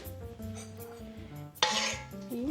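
Spoon stirring a marinade with bay leaves in a pot, soft scraping and clinking, then a sharp metallic clank followed by a ringing tone.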